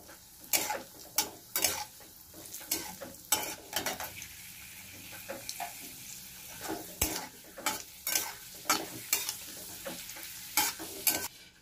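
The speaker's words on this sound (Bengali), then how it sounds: "কাজু দিলাম, কিশমিশ দিলাম, এটা আমি হালকা করে ভেজে নেব।" Cashews and raisins fry lightly in a pan for a Bengali chholar dal, with a soft background sizzle broken by repeated scraping stirs of a spatula at an uneven, steady rhythm.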